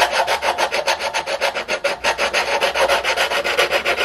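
Sandpaper rubbing up and down on a wooden dihedral brace, a steady close rasping scrape repeated in quick, even strokes about five per second, with no talking.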